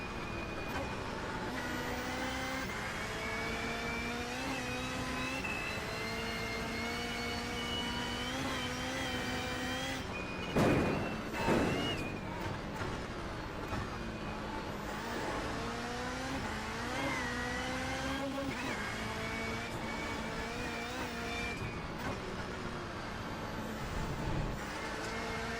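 Race car engine in the iRacing sim, revving and droning steadily with rising and falling pitch through gear changes, loud and continuous, with a brief harsher burst midway.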